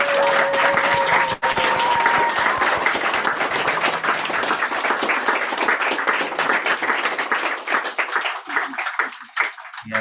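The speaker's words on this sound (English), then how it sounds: "A big round of applause for everyone." A crowd gives performers a big round of applause, loud, continuous clapping close by that holds steady and then tapers off into scattered claps at the end.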